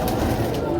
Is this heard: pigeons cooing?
yes